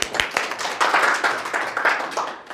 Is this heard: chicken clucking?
no